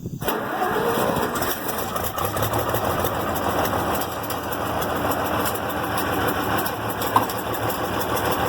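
An IH Farmall 706 tractor engine runs steadily on a freshly adjusted carburetor, a continuous loud idle with a slightly uneven, clattery knock throughout.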